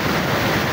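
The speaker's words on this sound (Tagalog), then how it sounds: "babagsak yung tubig yun dyan" Water from a waterfall pours down steadily inside Afqa Cave, giving a loud, dense, continuous rushing roar up close with no talking.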